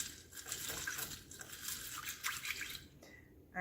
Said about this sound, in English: I'm going to put my cherries in. I'm going to stir it.